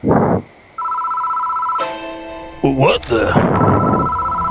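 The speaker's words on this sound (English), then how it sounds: "The phone starts ringing out of nowhere." An old telephone rings out in the horror game Death Mark, a sharp electronic bell that begins abruptly and repeats loudly, with a thud and a startled voice breaking in.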